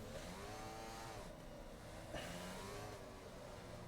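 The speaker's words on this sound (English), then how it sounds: "He's over revving the tyres on purpose there for whatever reason." Racing car engine in a sim racing game held at sustained high revs with wheelspin, a steady, dense whine that runs loud throughout with slight pitch shifts.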